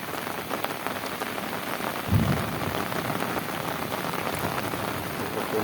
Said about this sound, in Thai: พ่วงกับฝนตกนะครับ